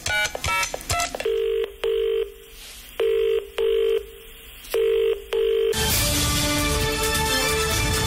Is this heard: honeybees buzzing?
no